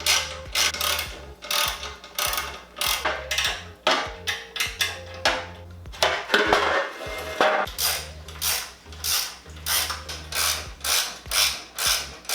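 A hand ratchet clicks in rapid bursts while bolts on motorcycle crash protection are loosened, the repeated strokes close and crisp with short pauses between them and no talking.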